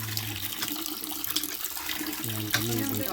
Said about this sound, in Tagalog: Ang gripo. Yan ang igiba namin dito.